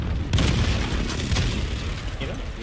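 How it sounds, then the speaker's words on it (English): Grenade blast in Call of Duty Warzone, a sudden loud boom followed by rumbling debris and scattered crackling pops that fade over a couple of seconds, with voices talking underneath. "Damn, that grenade, man."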